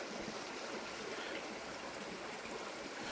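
A calm but still-flowing stream of water in the Sri Lankan highlands, a faint, steady hiss and trickle that continues evenly throughout with no talk.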